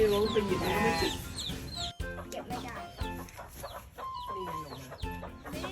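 Hens cluck and squawk close by on a farm in Phitsanulok, Thailand, one laying an egg in a basket, several birds calling over one another in a busy, continuous stream of farmyard chatter.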